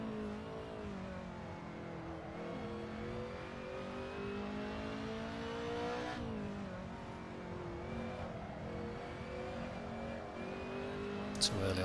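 BMW E30 M3 race car engine droning steadily on track at Silverstone, the pitch sweeping up and down as the driver comes off and back onto the throttle mid-corner, loud and continuous throughout.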